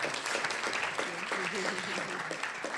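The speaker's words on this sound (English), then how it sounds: "Will you join me in giving them a round of applause for this wonderful talk?" An audience applauds the speakers at the close of a first-generation student event about graduate school; steady, moderately loud clapping throughout, with a voice faintly audible underneath.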